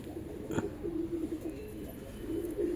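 A pigeon gives soft, low cooing in a steady murmur nearby, with a brief faint chirp early on and no talking.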